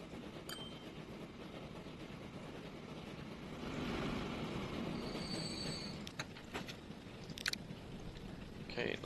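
Train wheels squeal in the Transport Fever 2 video game, a few thin high-pitched squeals over a low steady rumble of rail noise. The squeals are faint and brief, with a few sharp clicks.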